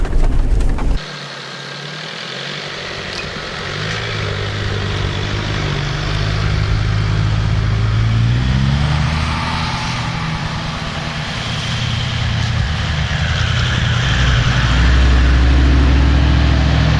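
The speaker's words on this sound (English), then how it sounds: "This is just fantastic snow driving. Fresh powdered snow." A 4x4 engine labours steadily through fresh powder snow on a mountain track, a loud low drone that swells and eases as the vehicle pushes on, heard close from inside with no talk.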